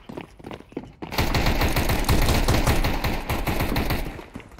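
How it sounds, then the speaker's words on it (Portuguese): Sustained automatic gunfire during a Counter-Strike 2 competitive match, loud and continuous for several seconds after a brief quieter lead-in, then tapering off. "Não atira em mim não, Mutu."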